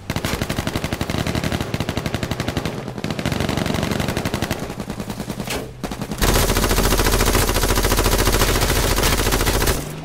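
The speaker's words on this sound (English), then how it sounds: "I headshot him with the revolver" Rapid gunfire from a revolver in the H1Z1 survival shooter, loud and dense, with a brief pause before a heavier, louder burst of shots takes over the second half.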